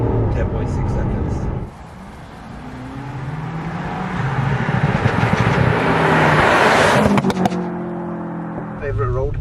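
A Stage 1 tuned BMW F90 M5 Competition with a ZF gearbox runs on a road, its engine and exhaust roaring near and loud. It dips, then climbs in a long rising pull, and crackles and pops as the pull ends.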